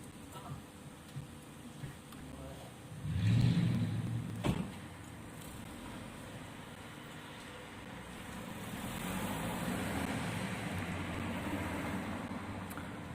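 Cars on a street in Sofia during an anti-government protest swell past at moderate distance, one louder rush early and another long whoosh later, over quiet street ambience.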